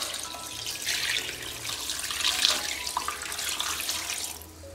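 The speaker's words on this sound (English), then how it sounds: "now we're going to pour our water in" Water poured from a jug into a big pot for Scottish Dundee marmalade, a close, steady splashing gush that swells and fades over several seconds, with no talk.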